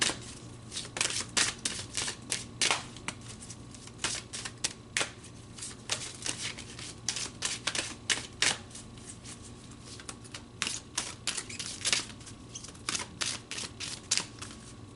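Tarot cards are shuffled during a spiritual reading, a continuous close riffle of crisp, papery flicks and slaps that keeps going steadily for the whole stretch, with no voice over it.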